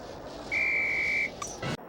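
A single sustained whistle blast starts a broomstick flying challenge in the Harry Potter and the Sorcerer's Stone PS1 game, holding steady for under a second over a background game ambience before a brief clatter of effects.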